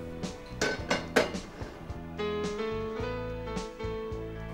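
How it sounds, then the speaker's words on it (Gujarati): Frying pan set down with metallic clanks and clinks of cookware, followed by a steadier ringing tone as oil goes in, close and fairly quiet, at the start of a Gujarati cooking session. "સૌ પ્રથમ આપણે ફ્રાઈંગ પેન લેશું અને થોડું ઓઇલ લેશું એમાં"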